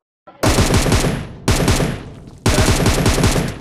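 Three loud bursts of rapid automatic gunfire in a video game, each starting sharply and rattling on for about a second, back to back with no talking.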